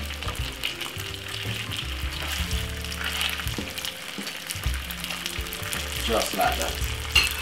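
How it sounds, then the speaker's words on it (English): Boiled dumplings sizzle and fry steadily in a pan for Jamaican old-school cooking, with a continuous crackling hiss throughout and a brief voice over it near the end. "So we're gonna let the other side get crispy and awesome"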